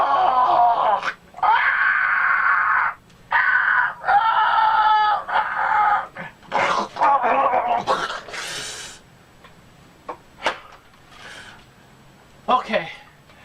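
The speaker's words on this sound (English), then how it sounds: "Chickens!" Loud chickens cluck and a rooster crows in long, harsh, drawn-out bursts, close and dominant, followed by scattered sharp clicks and chirps over a low background hum.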